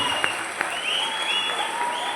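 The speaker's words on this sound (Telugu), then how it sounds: "ఎవరిని చప్పట్లో గట్టి కొట్టాలి" Applause from an audience at a meeting, a sustained wash of clapping with a couple of sharper claps standing out, over a faint tonal hum.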